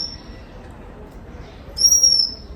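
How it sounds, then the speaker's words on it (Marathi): In a garden, a bird gives a thin, steady whistled note, falls silent, then returns with a louder, brighter two-toned whistle near the end over quiet outdoor background. "तुम्हाला दाखवते पक्षी तसा ओरडते तो"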